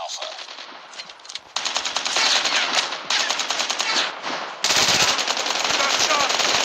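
Sustained automatic gunfire from the mobile shooter game Call of Duty Mobile, rapid bursts rattling loudly and nearly continuously, growing denser toward the end, with game voice callouts mixed in.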